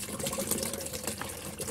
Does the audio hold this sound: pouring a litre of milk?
yes